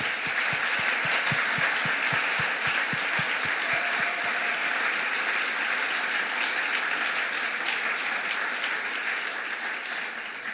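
Applause rolls through a conference closing ceremony, beginning with rhythmic unison clapping that then dissolves into sustained, loud, scattered clapping from a large crowd, tapering slightly at the end.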